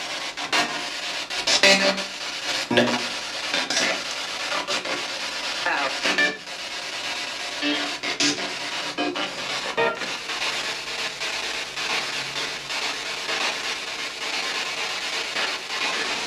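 A dense, shifting wash of static and noise that fluctuates continuously, like a radio rapidly scanning through stations, with brief fragments flickering past.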